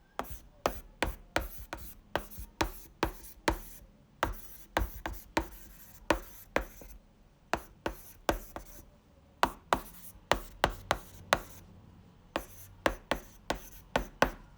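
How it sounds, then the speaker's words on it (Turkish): Stylus tapping and scratching across the paper-like matte screen of a TCL NXTPAPER 10s tablet, close and crisp, in quick irregular strokes with short pauses, no voices. "Ekranı kağıt sesi veren bir malzemeyle kaplanmış, kağıt sesi çıkıyor."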